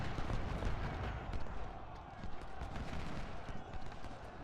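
Continuous dense battlefield din from the Civil War strategy game Ultimate General: Civil War, a steady roar of massed musket volleys and rumbling noise with no clear pauses, fairly loud throughout.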